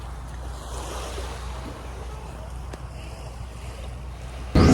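Sea waves wash onto a dark-sand beach with clear water, a low, steady surf rumble mixed with wind buffeting the microphone, ending in a sudden louder gust.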